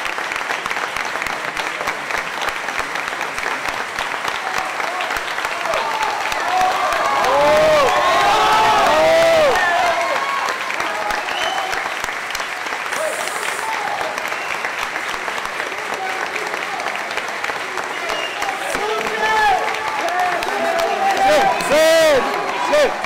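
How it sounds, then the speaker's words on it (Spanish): Crowded public galleries in a Colombian congressional session applaud a senator's accusations, a sustained roar of clapping and cheering with scattered whoops and voices, continuous and loud throughout. "Las denuncias del senador generaron el aplauso de las barras que desde un comienzo estuvieron abarrotadas"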